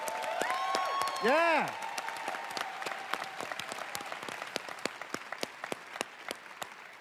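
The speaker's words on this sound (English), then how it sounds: "Let's give them an absolutely ripper round of applause." Conference audience applause at a Canva Create event, steady clapping that follows a short spoken word and a rising whooping tone near the start, fading slightly but continuing throughout.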